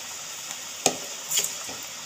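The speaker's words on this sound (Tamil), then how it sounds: "ஒரு மீடியம் ஃப்ளேமில் வச்சு வறுத்துக்கங்க" Cabbage pakoda frying in oil over a medium flame: a soft, quiet sizzle with a couple of sharp clinks and scrapes from stirring.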